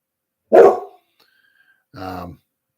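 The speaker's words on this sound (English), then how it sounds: "maybe my dog will start barking sometime" A single loud dog bark up close, followed a moment later by a shorter, harmonic yelp or whine, with quiet in between.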